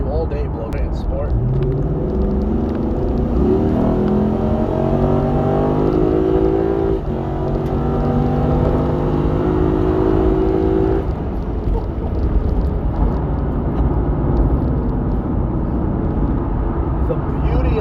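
A Lexus IS F sports car engine roars and climbs steadily in pitch as it revs to high RPM, drops briefly, then winds up again before settling into a loud, sustained drone.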